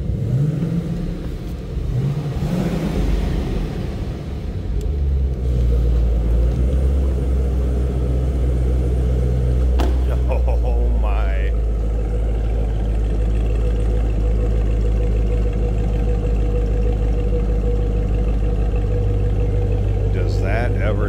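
A 2013 Chevrolet Camaro ZL1 engine runs with a steady, deep low rumble throughout, swelling briefly under throttle near the start, with faint voices in the background.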